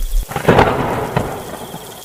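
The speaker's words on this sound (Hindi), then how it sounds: "बिजलियां कड़कने लगती है" A sharp crack of thunder rolls over a wash of heavy midnight rain, loud and close, with another hit at the end.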